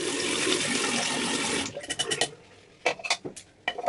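Tap water running into a bathroom sink to rinse off cleaned braces, a steady broadband rush for about a second and a half, then breaking into short splashing bursts and drips close by.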